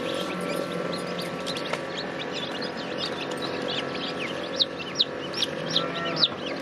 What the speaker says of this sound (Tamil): இதுல என்ன இருக்குங்க? கோழி குஞ்சு.